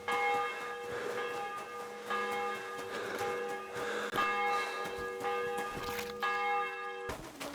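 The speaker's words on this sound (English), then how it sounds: "The bell's ringing for Hans the 5th time." Church bells ring continuously in a video game, Kingdom Come: Deliverance II, overlapping tones sustained and resonant, with faint clatter underneath and no speech.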